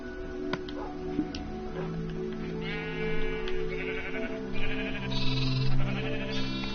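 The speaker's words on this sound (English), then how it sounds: "Do you guys want some sheep to attack? I can create some sheep." Blocky Minecraft sheep bleat repeatedly in a video game, several wavering calls overlapping at moderate loudness with no talking.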